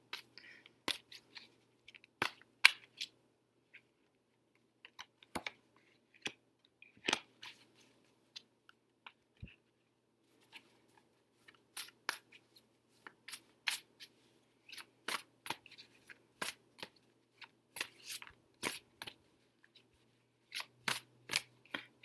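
Silver Witchcraft and Druidcraft tarot cards being shuffled by hand, giving soft, irregular papery riffles and taps that come in short bursts separated by brief pauses, close and fairly quiet with no talking.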